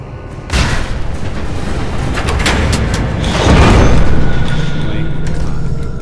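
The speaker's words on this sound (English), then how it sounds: "Detonating explosive charge." An explosive charge detonates in the Fallout 4 VR game, a sudden loud boom followed by a rolling rumble and a second swelling blast, with continuous battle noise underneath.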